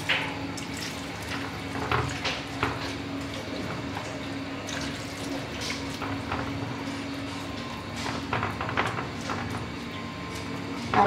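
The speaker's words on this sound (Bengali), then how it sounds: "1 কাপ পানি দিয়ে দিচ্ছি।" A measuring cup of water poured into a pan while cooking eggplant with mola fish, a steady liquid stream and splashing running several seconds, close and moderately loud, with no talking.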